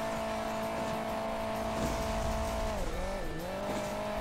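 Buggy in Hill Climb Racing 2 drones with a steady, buzzing game engine tone that holds level, then dips and wavers in pitch as the tires squeal briefly, close and loud with no talking.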